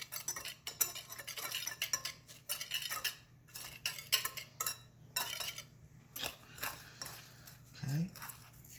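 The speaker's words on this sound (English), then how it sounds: "Mix this together." A utensil works through coffee cake ingredients in a bowl, producing irregular clinks, taps and scraping strokes in quick bursts with short pauses, close and moderately quiet.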